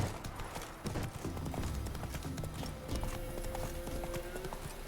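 Horse hooves clip-clop at a steady riding pace in The Witcher 3, a quiet rhythmic clatter of repeated footfalls mixed with game ambience and a faint tonal sound near the end.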